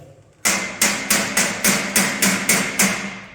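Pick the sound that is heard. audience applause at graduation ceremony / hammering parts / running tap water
hammering parts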